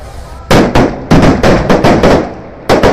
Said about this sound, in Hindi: धमाका होने वाला है देखिए